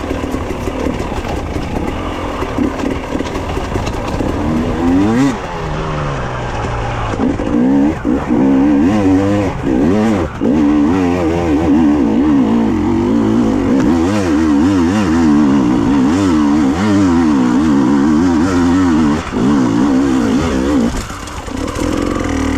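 A KTM TPI motorcycle engine with a modified idle screw revs repeatedly, loud and close, with rapid throttle blips rising and falling over a steady running drone.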